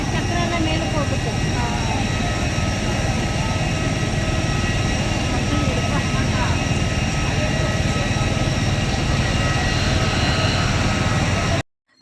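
Aircraft engine drone at an airport while boarding a flight from Shirdi to Bangalore, a loud steady roar running continuously until it cuts off abruptly at the very end.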